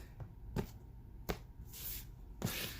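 Tarot cards being shuffled by hand: a few sharp, separate riffling snaps spaced about a second apart over a quiet room background.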